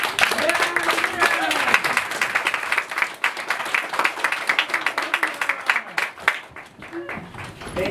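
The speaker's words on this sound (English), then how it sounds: "we're going to welcome him with a big round of applause" An audience applauds to welcome a presenter at a 1 Million Cups event, steady crowd clapping and cheering that fills the room for the whole stretch, with voices mixed in.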